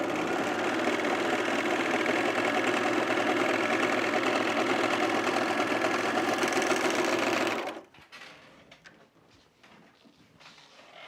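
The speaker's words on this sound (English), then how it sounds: "I spent probably 10 minutes trying to set up my serger today." A serger overlock sewing machine runs loud and close with a steady rapid whir for about seven and a half seconds, then stops, leaving faint handling noises.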